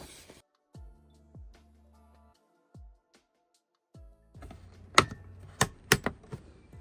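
Paper is fed into a tattoo stencil printer, with a few soft descending mechanical whirs followed by a cluster of sharp clicks and clacks as the sheet is handled and seated, close and dry.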